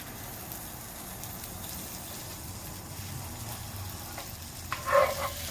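Steak frying in melted butter in a hot skillet gives a steady low sizzle and hiss throughout, with a brief sharper clatter near the end.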